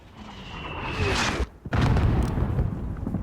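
A mortar explosion in the video game Call of Duty: Modern Warfare, on a highway battlefield: a whistling incoming round, a sharp blast and a loud rumbling aftermath.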